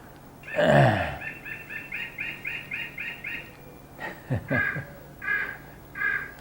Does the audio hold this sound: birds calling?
yes